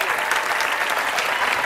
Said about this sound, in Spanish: Reciba el del aplauso público de la gente.